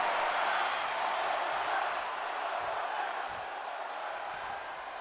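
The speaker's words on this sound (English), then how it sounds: "Crowd is chanting one more time." Wrestling video game crowd in WWE 2K MyGM chanting, a dense steady roar of many voices that fills the space continuously and evenly at a fairly loud level.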